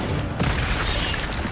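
A fire spell cast in the video game Hogwarts Legacy erupts as a loud, close whooshing burst with a crackling, booming roar that fills the moment, with battle effects layered around it.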